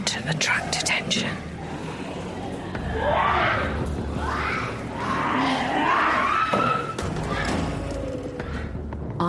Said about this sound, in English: There's a lot of screaming.